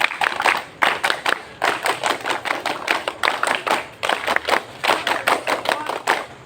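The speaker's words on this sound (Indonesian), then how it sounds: "Dua kali tepuk pramuka." A group of Pramuka scouts at a new-member induction performs their patterned scout clap, crisp rhythmic bursts of hands repeated in two rounds, close and lively.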